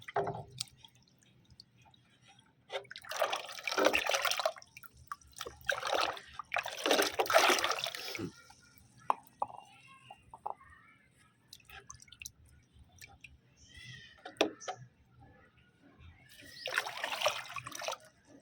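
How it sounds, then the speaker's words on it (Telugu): Kitchen waste is stirred into about ten liters of water to make plant fertilizer, giving close, intermittent bursts of splashing and sloshing separated by quieter dripping, with no talk. "మిగతా హాఫ్ ఇంకొక టెన్ లీటర్స్ ఆఫ్ వాటర్లో నేను యాడ్ చేస్తాను సో ఇదంతా కూడా ఇందులో మిక్స్ చేద్దాం"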